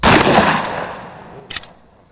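A 12 gauge shotgun fires buckshot in a ballistic test with one loud, booming blast that rolls off in a long reverberant tail, followed by a brief sharp rattle.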